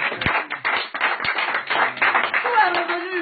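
Audience applause at a gathering, a quick rhythm of hand claps running under a voice as he keeps speaking in French.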